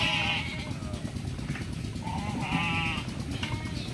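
Sheep on a Filipino farm bleat repeatedly, several wavering calls close by over a steady outdoor background with the flock moving about.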